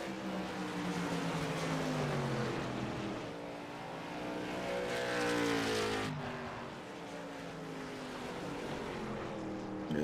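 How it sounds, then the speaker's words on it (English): Race cars lapping Irwindale Speedway during a USRLA double-header, their loud engine drone rising and falling in pitch as the cars accelerate, pass and fade, with no talk over it. "Definitely a way different sound between the two different cars"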